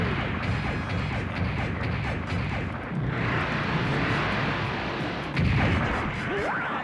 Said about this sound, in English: Just gonna shoot the rest of them there